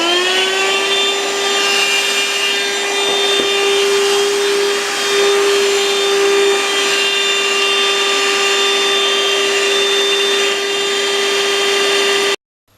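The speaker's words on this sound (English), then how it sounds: "now I'm going to show you how to make your Dirt Devil Express V6 into something that's actually useful for picking up dirt" A Dirt Devil Express V6 handheld vacuum, converted to run on a LiPo battery, whines steadily and loudly at close range with a constant motor pitch, then cuts off abruptly at the end.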